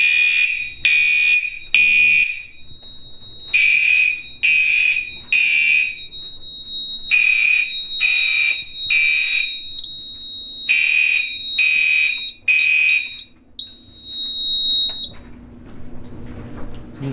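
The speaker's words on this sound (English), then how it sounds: "Now that we activated that one, as you can see, it's an alarm." A Silent Knight 5820XL fire alarm system under test sounds its alarm: loud, close, repeated high-pitched horn blasts in short pulsed groups with gaps, then a steady tone near the end.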